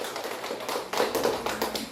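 Audience applause at a charity event where food packages are handed out, a steady run of clapping from a crowd of women lasting about two seconds without speech.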